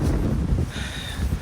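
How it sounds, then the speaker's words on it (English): Gusty wind buffets the microphone outdoors during an early-morning walk in Japan, a rough low rumble that rises and falls over a brief moment with no speech. "It's a bit windy"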